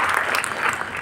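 Dense audience applause for award winners at a university ceremony, loud, continuous clapping from a large crowd filling the whole moment.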